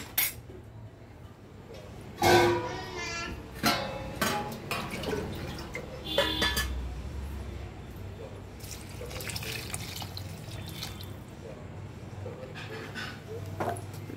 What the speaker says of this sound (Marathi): आता याच्यामध्ये पाणी टाकूया